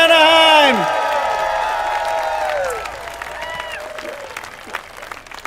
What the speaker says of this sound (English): Give yourselves a round of applause, Anaheim.